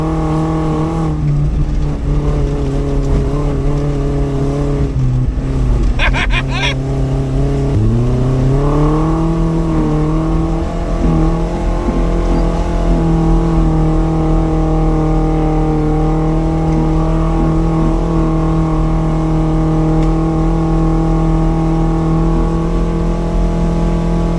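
A car with a rebuilt Toyota 18R engine is driven hard, its loud close engine drone rising and dropping as gears change, then holding a strained steady whine, heard from inside without talking.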